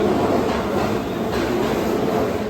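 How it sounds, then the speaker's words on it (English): A Keio Railway 7000 series commuter train, built in 1984, pulls into a station on the line toward Takao; a steady, loud rolling rumble of wheels and cars fills the whole stretch with no voices. "Here comes our train. It is a 7000 series train built in 1984."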